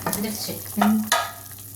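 Chicken pieces for Karnataka-style chicken fry stirred in a frying pan, a few quick scraping stirs over a soft, steady sizzle, close and alone with no talk.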